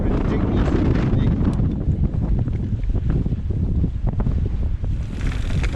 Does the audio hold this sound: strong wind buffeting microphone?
yes